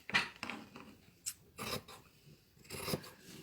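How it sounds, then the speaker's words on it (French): Scissors cut through fabric strips at a sewing workshop: several crisp snipping and rasping strokes come at irregular intervals, close but quiet, with no talking. "Et ensuite, vous allez prendre vos ciseaux."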